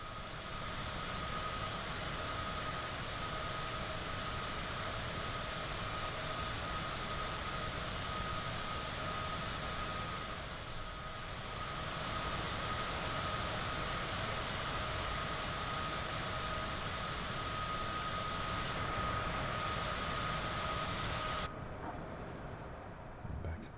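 Steady, loud engine roar and broadband rush from a Citation CJ4 business jet climbing out on departure, heard continuously from inside the aircraft with a tonal whine running throughout.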